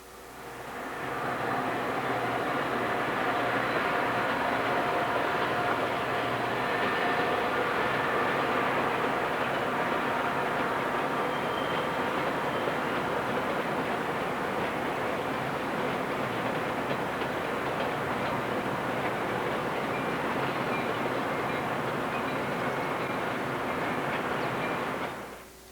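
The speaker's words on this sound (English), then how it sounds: "This train hauls commuters to work." A commuter train rumbles along in a dense, continuous roar that holds steady and loud for a long stretch before cutting off; no one speaks.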